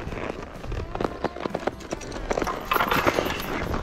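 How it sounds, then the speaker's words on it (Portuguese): A working farm horse clip-clops steadily at close range, its hooves striking in a quick, loud, continuous rhythm outdoors. "meu cavalo é um dos melhores também na lida aqui"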